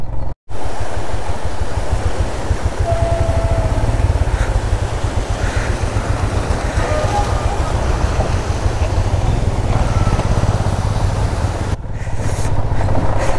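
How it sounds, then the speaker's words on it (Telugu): A motorcycle splashes through a long water crossing on a high Zanskar mountain road near Pensi La, a continuous rushing wash of water and engine noise, loud and close, with wind buffeting. "ఇప్పటివరకు లాంగ్ పెద్ద ఉన్న వాటర్ క్రాసింగ్ ఇది."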